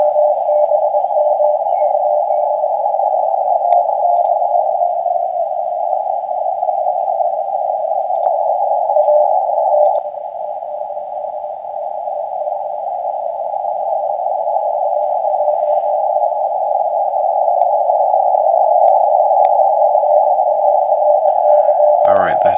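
A weak amateur radio signal: a steady tone hovers at one pitch for a long stretch, wavering slightly, with faint crackles and clicks scattered through and a brief burst at the end.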